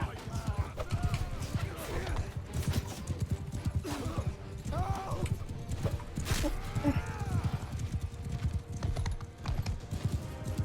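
Horse archers' mounts galloping in Mount & Blade II: Bannerlord, a steady, dense clip-clop of hooves running throughout with an occasional whinny and battle noise layered over it.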